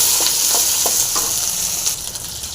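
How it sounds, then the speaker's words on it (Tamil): Garlic and green chilies frying in sambar oil in a pan, a steady loud hiss of sizzling with faint stirring scrapes, close and continuous. "பூண்டு போட்டுடலாம் இது பச்சை மிளகாய் போட்டுடலாம் இது சாம்பார் எண்ணெய் போட்டுடலாம் இது நல்லா ஃப்ரை ஆகட்டும்"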